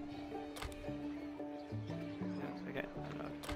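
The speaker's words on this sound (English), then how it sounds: "Hey, it's a horse." A horse neighs in the video game Bless Unleashed, a short whinny with a few hoof clops over steady game music and someone talking.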